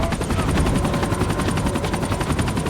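Helicopter in the video game Max Payne 3, its rotor thumping in a steady rapid chop with loud engine roar throughout, close and continuous.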